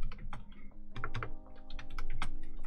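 Someone types a command on a computer keyboard: quick, close, fairly soft keystroke clicks in an uneven run, with a faint steady hum underneath.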